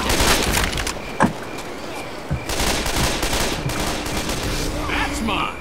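Dense gunfire in the Left 4 Dead 2 zombie shooter, with rapid, loud bursts and sharp cracks running almost continuously and a couple of heavier single shots.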